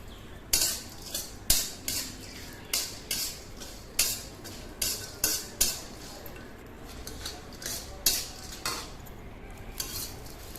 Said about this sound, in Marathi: लवंग दालचिनी बारीक सर्व मसाले त्यापूर्ण एकदमच भाजूया